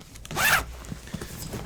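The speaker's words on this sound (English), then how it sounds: "So the zipper, the top zipper right here," The top zipper of a Wandrd Stratus Photo 18L backpack is pulled open in one quick, close rasp, followed by faint handling clicks.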